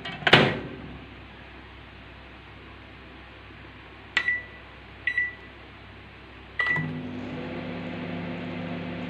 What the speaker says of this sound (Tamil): இப்போ மைக்ரோவேவில் நான் மைக்ரோவேவ் மோடில் அதை ஹையில் ஒரு 2 மினிட்ஸ் வேக வைக்க போகிறேங்க